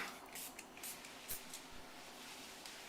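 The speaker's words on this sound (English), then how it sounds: "all we're going to do is spritz it on and just rub it in with a towel" Granite sealer spritzed onto a natural stone countertop and rubbed in with a towel: several short, quiet hissing sprays in an uneven rhythm over the first half, then soft, faint wiping and rubbing, close up with no talking.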